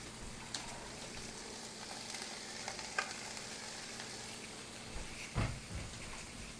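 Hamburger meat frying in a skillet, a quiet steady sizzle with a few sharp utensil clinks and scrapes scattered through.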